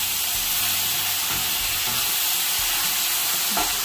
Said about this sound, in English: Let's give it a stir and see what we got.